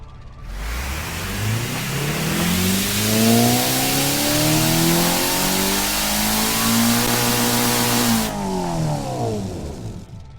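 A 4.4 liter twin turbo V8 runs up from a start, revving steadily higher through rising and falling sweeps, loud and close and heard alone with no voices, before cutting off near the end.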